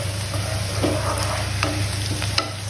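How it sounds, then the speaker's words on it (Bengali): Onions fry with a steady close sizzle in a pan as they brown, while a utensil scrapes and stirs them in several brief, irregular strokes. "তো পেঁয়াজগুলো লাল লাল হয়ে চলে এসেছে।"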